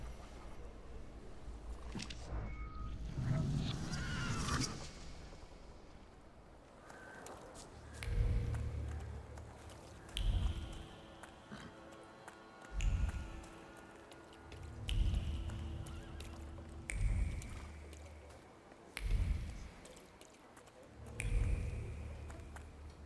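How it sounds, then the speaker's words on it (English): Rhythmic hoof clops from a horse in the video game The Thaumaturge, falling in regular low thuds every couple of seconds, with a brief whinny-like cry near the start. "I meant to take the horse out for a ride, so"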